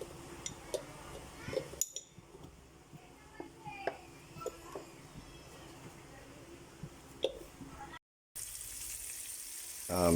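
Pork chop frying in a pan, a soft, steady sizzle with occasional clinks of utensils and a brief break near the end.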